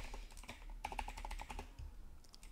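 Quick run of computer keyboard keystrokes as a message is typed into a game stream chat, steady light clicking close to the mic with no talk.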